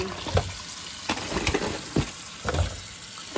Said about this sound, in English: So I'm just going to rinse them off and get the little stuff